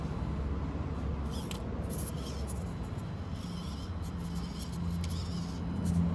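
A small Axial SCX24 RC crawler on tractor tires churns through stirred-up mud, its tiny motor whirring steadily and continuously for the whole stretch with a faint rise near the end, no talking.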